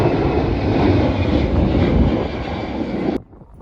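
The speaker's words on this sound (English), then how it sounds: "Easy jet taking off." An easyJet passenger jet takes off near Manchester airport, its engines a loud, steady broadband roar that holds for about three seconds before cutting off abruptly.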